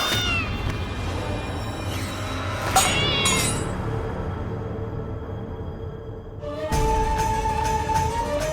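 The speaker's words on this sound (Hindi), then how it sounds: "ये बिल्ली कहाँ से आ गई?" A black cat meows indoors in loud, drawn-out, rising cries, several in a row with a short lull before a final sustained wail, close and clear over a faint background, with no one speaking.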